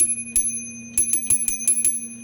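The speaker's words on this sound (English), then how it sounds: "Almost all teletypes had a bell on them that you could trigger with a command to make a bell ring" A teletype bell on a converted 1970s IBM Selectric II typewriter, struck by a solenoid in several sharp, clean metallic dings, one alone, then a quick run of rings, over a steady electrical hum.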